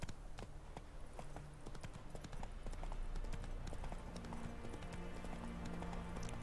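A horse in The Witcher 3 video game clip-clops along at a steady walking rhythm, close and clear, with no talk.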